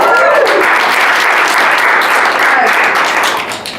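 A comedy club audience bursts into loud, close applause with cheering, dense and steady before tapering slightly at the end.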